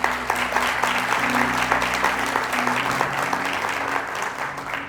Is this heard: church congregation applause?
yes